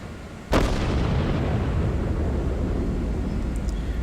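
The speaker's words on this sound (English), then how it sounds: "You can see my anti-aircraft guns engaging the enemy" A single sharp, booming shot from a warship's anti-aircraft guns in a naval battle video game, followed by a long, loud rumbling roar of battle noise with no talk.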